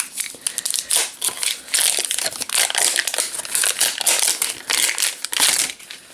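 Crinkly plastic toy packaging is crumpled and torn at close range, with dense, irregular crackling and rustling bursts that continue throughout.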